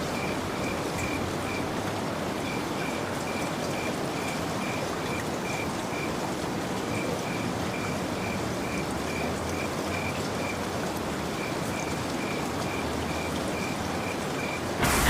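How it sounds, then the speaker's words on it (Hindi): Heavy rain pours down in a steady, dense broadband hiss, with a faint repeating high tone pulsing through it and no voices. "जोरों की खूंखार बारिश होने लगती है"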